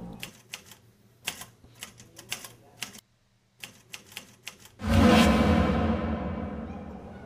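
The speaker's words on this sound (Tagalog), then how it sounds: "Kung minsan, may mga makinilya namang kusa raw gumagalaw." Old typewriter keys clacking on their own in a ghost story effect, with an uneven run of sharp, echoing strikes and a brief pause, then a loud whooshing swell that slowly fades.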